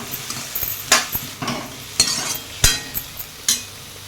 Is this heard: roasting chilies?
yes